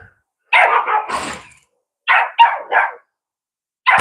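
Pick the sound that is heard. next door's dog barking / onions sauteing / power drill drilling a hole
next door's dog barking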